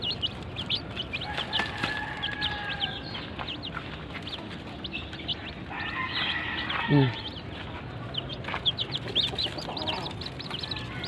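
Chinese black-skinned ulikba chickens and brown Texas chickens cluck and squawk on a farm, with repeated close clucks and a few sharper calls over a constant outdoor hiss.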